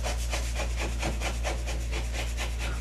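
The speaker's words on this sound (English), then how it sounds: "This putty knife is really working good." A putty knife scrapes a drywall patch indoors in a condo with steady, rapid back-and-forth rasping strokes, close and continuous over a low background hum.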